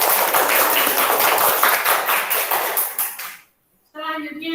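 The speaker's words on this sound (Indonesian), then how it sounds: "Tepuk tangan untuk teman kalian yang di depan" A classroom applauds a student group that has just presented on stroke. Dense clapping runs for about three and a half seconds, then stops abruptly, and a voice begins soon after.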